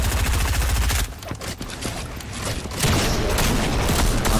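Gunfire in an Unreal-style shooter game, loud bursts of rapid shots at the start and again near the end with a quieter gap between, close and punchy with no talk.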